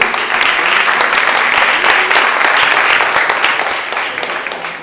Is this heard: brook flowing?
no